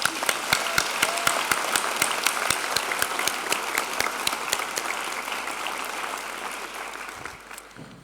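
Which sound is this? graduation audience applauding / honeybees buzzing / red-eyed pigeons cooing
graduation audience applauding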